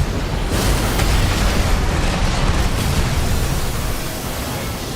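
An explosion in an Armored Core 6 PvP match sounds as a loud, broad roaring blast that holds for several seconds and slowly fades.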